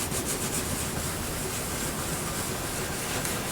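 Wet 1000-grit sandpaper rubbed over the finish of a 1956 Kay Aristocrat archtop guitar, giving a steady, close, soft hiss of abrasion with no pauses and no talking.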